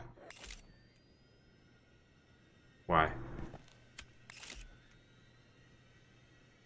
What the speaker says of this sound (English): Oh, it's a camera.